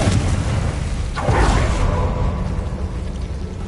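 A Confringo spell blast in Hogwarts Legacy, a sudden whooshing burst about a second in that swells into a booming explosion and then rumbles away over dense background game sound.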